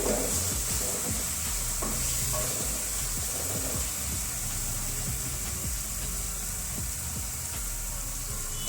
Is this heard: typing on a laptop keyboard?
no